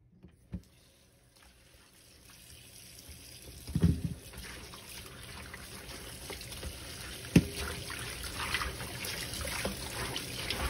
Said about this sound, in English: first thing we're gonna do is we're gonna wash our meat